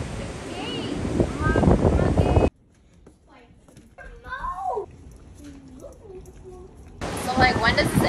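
Gusting wind during a Kentucky windstorm at a homestead roars loudly at the start and again at the end, easing between, with people talking and faint sounds in the quieter middle.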